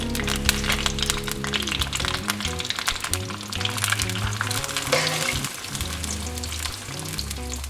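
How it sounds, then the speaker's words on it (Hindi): Four medium onions fry in oil over medium heat for Bombay biryani, a steady sizzle running underneath prominent background music. "4 दरमियाने साइज़ के प्याज थे, ये मैंने इसमें डाल दिए और इसके बाद मैं इनको फ्राई कर लूँगी दरमियानी आंच पे"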